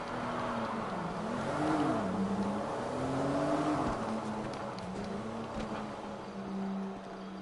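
A car engine hums steadily in GTA 5, its pitch rising and falling as it draws nearer, loud and continuous with no voices over it.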